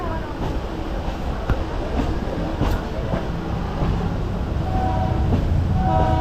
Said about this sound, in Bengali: ছেড়ে দিল ট্রেন